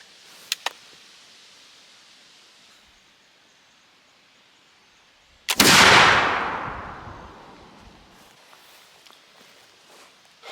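Flintlock muzzleloader fired with number 6 lead shot outdoors, a single loud blast after a couple of faint clicks, followed by a long rolling echo that fades over several seconds.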